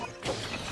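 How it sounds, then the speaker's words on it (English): A single heavy stone axe strike in Zelda: Tears of the Kingdom, a sharp crunching smash with a brief ringing tail, close and loud with no talk. "Stone axe, let's try it out."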